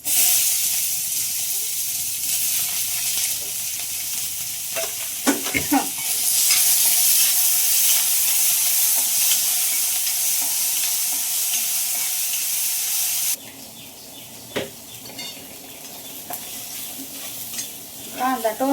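Onion and tomato sizzle steadily in hot oil with cumin, a loud continuous frying hiss broken by the scrape and clatter of a spoon stirring the pan, quieter in the last few seconds.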